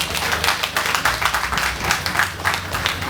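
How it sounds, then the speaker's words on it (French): Applause from a ceremony crowd at a Mass with speeches by dignitaries in Nonvizan Sèhomi, a steady, fairly loud patter of many hands continuing throughout. "Applaudissez pour eux"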